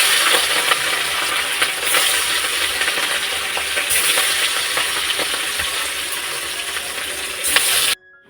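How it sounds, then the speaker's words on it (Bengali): Fish fry in oil in a pan with a loud, continuous crackling sizzle, close up and uninterrupted, with a few faint scrapes before it cuts off abruptly at the end. "এখন মাছগুলো ভাজা করে নিব"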